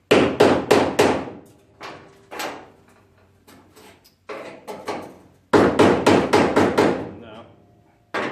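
A hammer drives a chisel through the sheet metal of a 1968-72 GTO, Chevelle, LeMans or Oldsmobile trunk lid panel. The sharp metallic strikes come close and loud in quick bursts of several blows, separated by short pauses.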